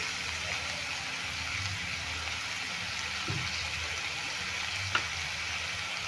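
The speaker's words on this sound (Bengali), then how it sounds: "এবার আলু আর গাজরটা ভালো করে মেরে ভেজে নেব" Potatoes and carrots fry in a pan with a faint, steady sizzle throughout, broken by a soft knock and a small click near the end.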